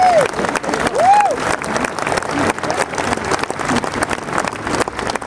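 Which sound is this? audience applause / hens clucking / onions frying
audience applause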